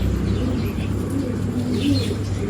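Birds at a pet shop coo softly and repeatedly in low, murmuring phrases, layered over a steady background hum with an occasional faint chirp.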